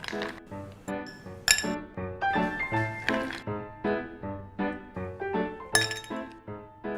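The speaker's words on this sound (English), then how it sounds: "I'm going to top it up with ice, like a lot of ice." A lot of ice cubes tumble into a drinking glass for a summer drink, giving a close run of bright clinks and chinks, clustered in quick bursts with a few sharper knocks.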